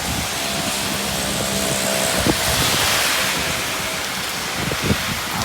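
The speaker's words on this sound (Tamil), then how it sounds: "காற்றும் நிறையா இருக்குது. வேறு மழை." Steady roaring wind and broad rushing noise of heavy rain and strong gusts during a cyclone in Chennai, with a couple of brief thumps.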